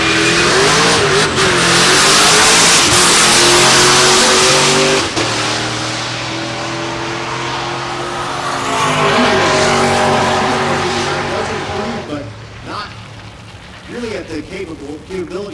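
A drag racing car launches down the eighth-mile strip at Texas Motorplex, a loud, roaring engine that revs and fades with the run, while an announcer talks over it.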